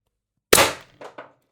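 A single sharp shot from a Pistelle X-68 Punisher foam blaster fitted with a Huben power stock and ADN X18 drum mag, a crisp snap followed by two quick, fainter mechanical clicks in a quiet room.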